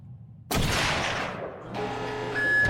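Gunfire bursts out abruptly in a dubbed Iranian action serial, a loud broadband blast followed by a sustained crackling roar and ringing tail over a couple of seconds, with no talking.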